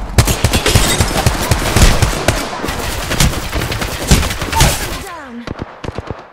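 Rapid bursts of automatic gunfire from Apex Legends gameplay crackle densely and close, with several sharp shots trailing off near the end, mixed with game effects and a speaking voice.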